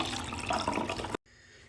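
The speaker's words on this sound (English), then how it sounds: "I'm going to balance it out by pouring a little more coffee in there" Coffee is poured into a cocktail in a steady, close liquid stream for about a second before it cuts off abruptly, leaving quiet room tone.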